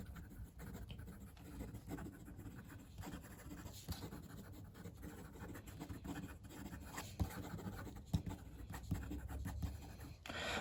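A fountain pen nib scratches quickly across paper in fast, irregular strokes, close and faint, with no talk.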